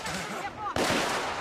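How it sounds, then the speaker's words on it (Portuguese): A single sharp pistol shot lands in the video game The Order 1886. It cracks loud and close after quieter background game sounds, with a short ringing tail. "headshot agora com a pistolinha da hora"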